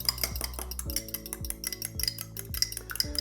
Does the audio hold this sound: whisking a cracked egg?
yes